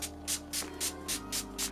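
NYX Dewy Finish setting spray misted in a rapid series of seven short, even hisses with a steady rhythm, close and fairly quiet over a faint background hum.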